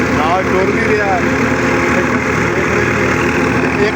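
A tractor-driven brick-making machine's engine drones loud and steady at slow speed, a continuous heavy rumble with voices talking underneath.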